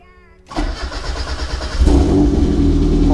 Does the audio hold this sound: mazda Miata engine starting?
yes